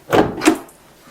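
The door of a 1964 Ford Custom 500 car, with a front door that sags slightly on opening, makes two quick close thumps and clunks, then goes quiet.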